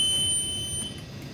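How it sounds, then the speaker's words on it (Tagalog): The overspeed shutdown alarm sounds on a Mitsui MAN B&W BMS-2000 3ME engine simulator: a steady, high electronic tone over a low machinery hum. "Shutdown, overspeed yung alarm niya."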